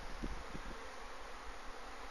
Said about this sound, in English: as you can hear it's busy and lots and lots of bees flying past